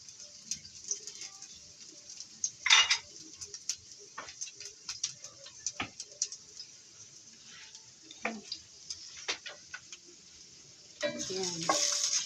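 Beaten egg stirred in a frying pan makes a soft, sizzling bed with repeated scraping taps and ticks from the utensil, plus a louder burst of sizzle near the end.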